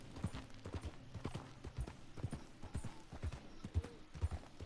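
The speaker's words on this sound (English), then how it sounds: "I have the horse." Horse hooves clip-clop at a steady walking rhythm in Red Dead Redemption 2, distinct close footfalls over a soft background with no talking.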